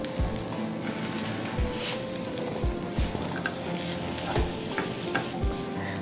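A vegetable stuffing is stirred and cooked in a pan, with a spoon scraping and knocking against it every second or so over a steady sizzle.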